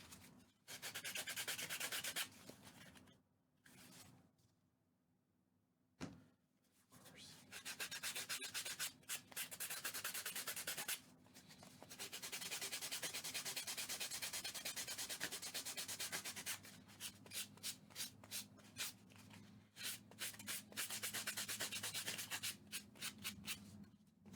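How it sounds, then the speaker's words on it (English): Continuous rough rubbing of sandpaper by hand on a puppet, in long scratchy bursts with brief pauses between, close up and fairly quiet. "Now let me start sanding."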